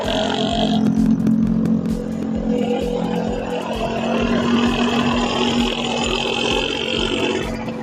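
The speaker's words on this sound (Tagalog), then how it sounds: "Pinapalayo ko yung motor na maingay" A loud, rough motorcycle engine rumbles nearby with a constant throbbing idle and a whining tone, mixed into busy street noise.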